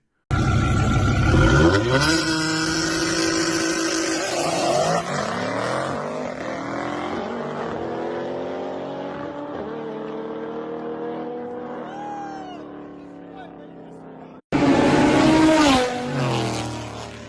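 An Audi RS3 and a McLaren street racing, engines roaring hard under acceleration with rising, gear-by-gear pitch sweeps that fade into the distance, then a loud close burst of engine noise at the end.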